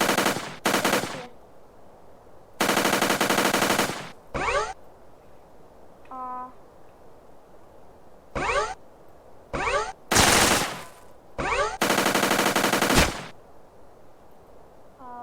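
The War Machine machine gun in GTA San Andreas fires in several loud, rapid bursts of varying length, broken by short pauses and small game effects in between.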